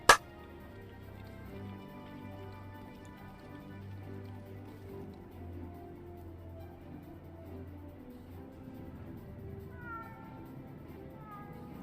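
A cat meows in Final Fantasy XIV Online: Heavensward, its short mewing calls rising near the end over a steady bed of game music that runs throughout.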